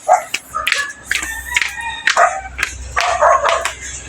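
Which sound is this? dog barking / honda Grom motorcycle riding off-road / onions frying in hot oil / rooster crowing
dog barking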